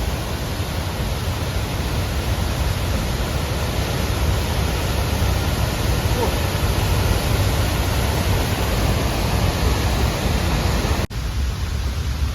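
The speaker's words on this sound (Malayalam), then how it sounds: "വെള്ളം താഴോട്ട് പോകുന്നത്." Monsoon floodwater at Anchuruli pours downward in an unbroken, loud rushing roar that holds steady throughout, with one brief dropout near the end and no voices.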